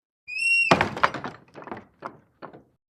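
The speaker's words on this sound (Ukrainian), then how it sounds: "Заторигало щось сінешніми дверима, сильно, нетерпляче." The wooden entrance-hall door of an old rural house rattles hard and impatiently in a dramatized audiobook scene: a brief creak, then a burst of rapid, heavy thuds that slows into a few separate knocks, close and loud in a silent room.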